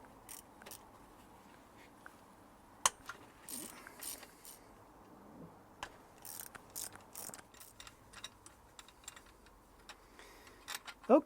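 A ratchet fitted with a 13mm deep socket removes bolts during a Ford Focus ST170 restoration, making faint, close, intermittent clicking bursts and small metallic taps in a quiet workshop, with a sharper clack near the end.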